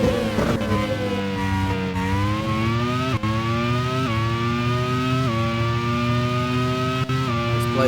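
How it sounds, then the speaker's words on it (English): Grand Prix World Series single-seater race cars battle for position at the Zolder circuit; a loud, close engine whine climbs steadily and drops briefly at several gear changes, with no voices. "And there's an overtake being done by Stoff Van Don on Kimi Antonelli for 7th position"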